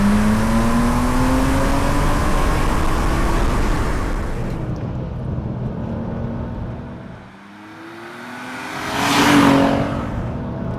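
A BMW M635 CSi engine pulls hard and loud with a rising, sustained roar, fading briefly before a second surge swells back up near the end; no talk.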